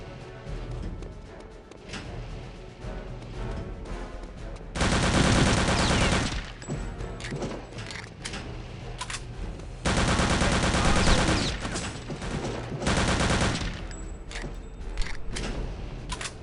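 Bursts of automatic gunfire from enemy soldiers in Return to Castle Wolfenstein, fighting German troops: two long sustained loud volleys and several shorter rattles over a steady background of scattered shots and game noise.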